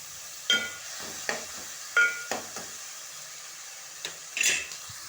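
Onions fry in a pan and are stirred with a spoon. A low, steady sizzle runs underneath, broken by a few distinct scraping and clinking strokes, with no voices.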